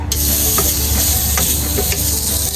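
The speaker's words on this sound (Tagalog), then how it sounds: "Maglagay na muna tayo ng ilang piraso ng karne para kunwari magkaroon siya ng sariling mantika." Pieces of meat frying in a dry pan with no oil added, a loud continuous sizzle and hiss up close, with a few faint stirring knocks scattered through it.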